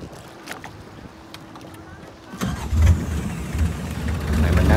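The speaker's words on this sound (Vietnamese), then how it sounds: "Và cái động cơ là Mitsubishi 4D68, cái động cơ để nguyên zin." A boat running on an unmodified Mitsubishi 4D68 engine during a Tet holiday parade in Phong Dien district, the motor idling quietly at first, then louder and rougher as it revs up and drones on.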